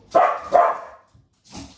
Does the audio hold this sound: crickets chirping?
no